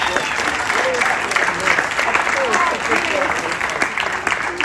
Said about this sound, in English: Please give Blessing another round of applause.